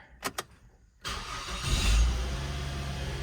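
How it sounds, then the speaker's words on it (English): A 2006 Mazda 5 Touring minivan with an ABS warning light on: two short clicks, then the starter catches and the engine fires up and settles into a steady close idle. "Okay, start the car."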